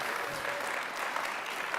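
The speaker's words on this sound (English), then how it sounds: "That deserves a round of applause." Applause from a conference audience fills the hall, steady and dense for the whole stretch with no voices breaking through.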